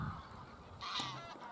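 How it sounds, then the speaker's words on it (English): Greylag geese honking across a field on a countryside walk, one or two faint distant honks standing out from quiet open-air background. "that's our greylag geese over there"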